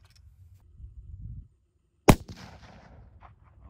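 Single sharp rifle shot from a 6x47 Lapua or 6.5 Creedmoor fired at a tiny pop can 847 yards away at a long-range outdoor range, loud and close with a ringing tail, after a quiet stretch of low rumble.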